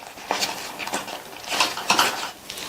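A spoon scrapes and knocks against a pan while a thick sweet snack mixture is stirred over low heat, irregular clinking strokes close by with no talking.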